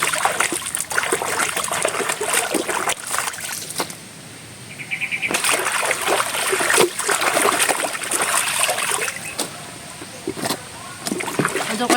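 Water pours and splashes in irregular bursts during bathing, with trickles and dribbles between the splashes and a voice speaking intermittently.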